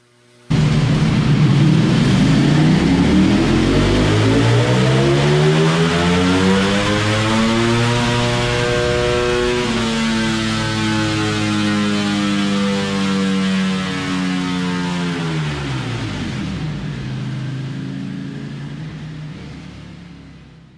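An Aprilia RSV4 1100 Factory or Ducati Panigale V4S superbike roars on a dyno in a single long pull, its engine note rising steadily through the revs, then cutting off and winding down at the end, loud and close with no talk.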